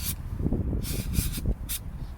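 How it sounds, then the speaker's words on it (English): A few short bursts of aerosol lubricant hissing from a can, sprayed onto a BMW differential part, close by, separated by brief pauses over a low mechanical background. "Now I'm going to spray a bit of lube on that."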